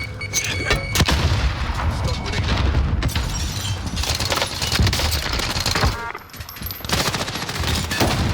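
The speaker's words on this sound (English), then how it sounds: "Throwing grenade." A grenade blows up in an online shooter game, a heavy boom set among dense rapid gunfire bursts, with player chatter partly under the noise.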